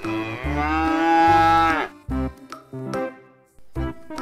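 An orange cow moos several times, one long drawn-out call followed by shorter, choppier lows, close and loud with brief pauses between.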